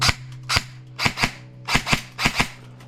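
Sharp, snappy airsoft gun shots from a LiPo-powered gun fitted with an amplifier, fired up close, several single and paired pops in quick succession over a low steady hum.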